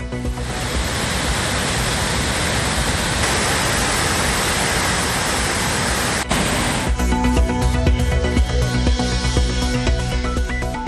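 Thirparappu waterfall in Kumari district roaring as a dense, continuous rush of falling water, loud and close throughout, with the texture shifting partway through.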